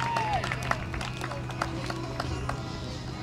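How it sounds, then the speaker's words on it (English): A youth ranch rodeo crowd in West Texas applauds after a trailer-loading run. The scattered clapping is moderately loud against a steady background hum, and a short whistle-like tone sounds near the start. "round of applause for them."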